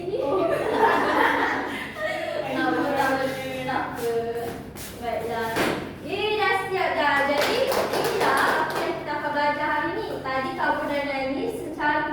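Hands clap in a classroom in several quick bursts, mixed with a teacher's voice, children speaking and some chuckling.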